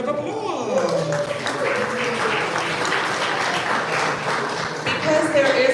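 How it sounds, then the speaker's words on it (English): A room full of attendees at a 1 Million Cups Detroit Metro business gathering applaud themselves, sustained clapping from a large group with voices talking and calling out over it throughout. "give yourselves a round of applause"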